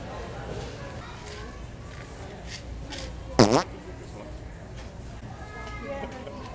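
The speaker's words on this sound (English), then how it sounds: "Just a little fart." One short, loud fart-like burst cuts through the ambient hum of a busy Walmart store, alone and close, with faint footsteps and background noise around it.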